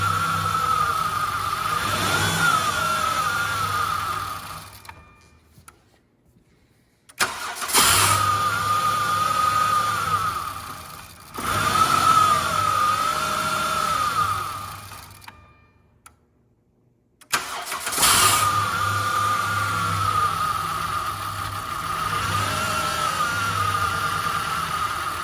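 A van's engine idling with the throttle held open after being misfuelled with diesel, running in long stretches of steady revving that cut out twice into near silence before catching again.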